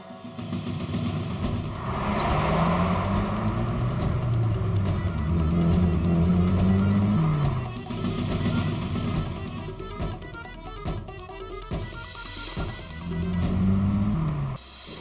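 A car pulls away in pursuit, its engine rumbling and rising in revs in several waves, fairly close and loud, with no talk over it.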